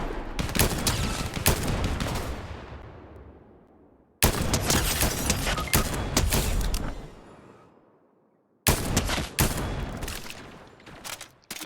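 Dense bursts of gunfire in Fortnite, sustained rapid shots in three long volleys separated by brief silences, loud and close with each volley trailing off.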